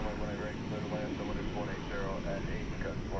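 Jet engines of a Boeing 747 heading to Europe rumble at DFW Airport at night, a moderate steady roar heard under a voice talking throughout.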